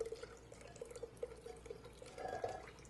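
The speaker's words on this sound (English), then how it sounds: "So just pour in a sieve" Gelatin cream mixture is poured through a sieve, giving a soft, steady trickle with faint dripping, quiet and close.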